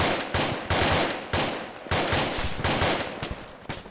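Sustained gunfire in the Arma military video game, loud dense bursts of automatic weapons fire in repeated waves with overlapping shots, no pauses throughout.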